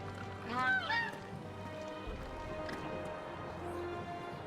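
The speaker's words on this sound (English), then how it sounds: "That's a majestic bird right there." A goose in the Final Fantasy XVI video game gives a short burst of several nasal honks early on, fairly near, over a steady game ambience with low rumbling and soft hoof-like clopping after.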